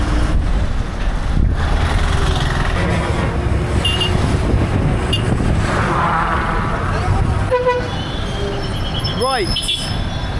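Rumbling road noise from a bus ride in India, a steady low drone with rattles and passing traffic, some voices nearby and a horn-like tonal sweep near the end.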